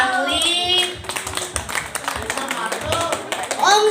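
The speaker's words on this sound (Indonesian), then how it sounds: "tepuk tangan dulu buat semeton Bangli." Audience clapping at a Balinese comedy show, a dense patter of hands that rises and swells toward the end, mixed with overlapping shouts and chatter from the crowd.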